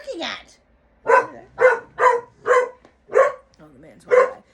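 Dogs barking at a man walking past, a run of six sharp barks in quick succession after an opening yelp, close and loud.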